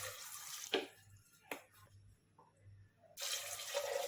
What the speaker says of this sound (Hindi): पानी डालेंगे हम।